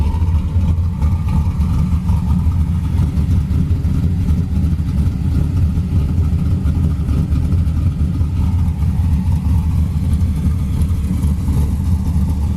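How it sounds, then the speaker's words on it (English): A 1997 Pontiac Trans Am with MagnaFlow dual exhaust idling and revving gently, a loud, steady deep rumble of the engine holding throughout with no talk. "It's got MagnaFlow dual exhaust."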